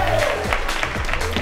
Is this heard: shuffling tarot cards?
no